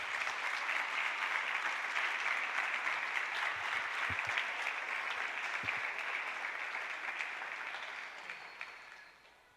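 A church congregation applauding during a service, dense continuous clapping from many hands that holds steady and then gradually fades toward the end.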